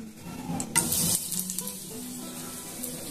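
Crushed clove, cardamom and cinnamon hit hot oil in a pan with a sudden sharp sizzle that settles into steady frying crackle, close up, with a brief clink of utensils and no voices.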